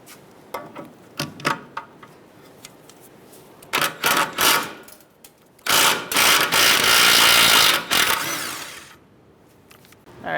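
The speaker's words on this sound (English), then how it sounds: "Now I'm going to take off this nut using a 17mm socket." Ratchet wrench with a 17mm socket working a nut loose on a 2010-2013 Kia Soul 2.0L during CV axle replacement, sharp clicking in short bursts then long continuous runs of ratcheting, close and loud, no talk.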